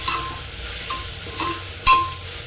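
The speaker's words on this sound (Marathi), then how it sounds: "सगळ्या भाज्या आपण आता व्यवस्थित मिक्स करून घ्यायच्या आहे।" Mixed vegetables for soybean pulao stirred in a pan, a few soft scraping strokes over a faint sizzle, capped by one louder clack of the spoon near the end, close and alone.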